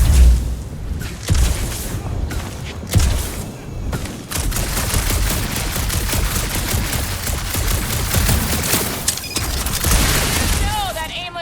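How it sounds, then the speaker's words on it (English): Gunfire from the Guardians of the Galaxy action game: dense rapid shooting bursts and booms pile up continuously beneath a loud, busy game soundscape, with a few sharper blasts standing out. "that aimless shooting isn't gonna scare the monsters away"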